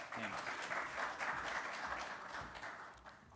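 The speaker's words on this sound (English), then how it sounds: "Round of applause to BioShell" An audience at a startup pitch competition applauds steadily for a presenting team, a dense, even wash of many hands clapping at moderate loudness that holds for several seconds before easing slightly at the end.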